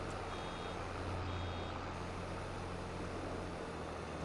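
A vehicle's reversing warning buzzer in Farming Simulator 22 beeps steadily and loudly over a constant engine drone, with no talking.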